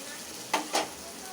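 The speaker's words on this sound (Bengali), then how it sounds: "দেখো সবজিগুলো ভাজা ভাজা হয়ে গেছে।" Vegetables frying in a pan for a niramish okhma, a faint steady sizzle broken by two quick scraping stirs close together in the middle.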